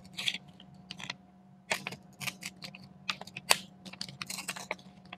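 A wet paper yantra, softened after soaking in a glass of water, is torn apart in short, crisp ripping bursts, close and fairly quiet, with pauses between tears and no talking.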